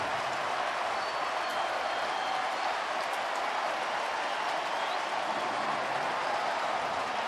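A baseball stadium crowd at a Phillies home game cheers a steal of home, a steady, distant wash of roaring and applause that holds at an even level throughout, with no clear voices on top.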